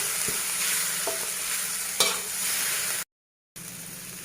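Chili paste stir-fried in a pan, a loud continuous sizzle with a few scraping strokes of the spatula and one sharp knock, cut by a brief gap of silence.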